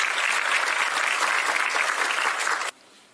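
An audience at a local-government Green New Deal debate applauds loudly and steadily, a dense wash of clapping that stops abruptly near the end, leaving quiet room tone.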